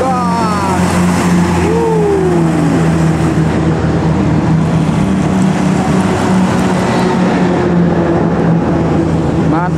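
A loud, heavy engine of a Tentrem Avante H9 bus drones steadily as it passes close by on a Sumatran highway, its pitch sliding downward, with a horn-like tone early on.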